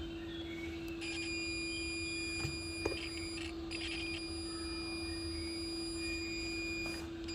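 A multimeter switched to diode/continuity mode gives a steady electronic tone, continuous and fairly quiet, with a few faint clicks over it and no talking.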